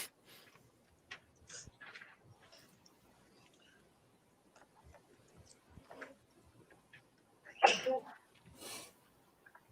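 A single sharp sneeze bursts out in a quiet courtroom, loud and close, amid faint ticking, small knocks and low background murmurs.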